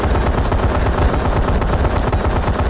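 Rapid automatic gunfire from a Call of Duty: Advanced Warfare Domination match on the Ascend map, a loud, dense, continuous burst of rounds filling the whole stretch with no pause.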